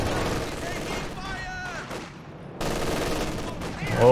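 LMG gunfire in Company of Heroes 2 battle, with bursts of rapid shots and booming impacts mixed under a voice talking over the action, briefly dropping out before the firing resumes.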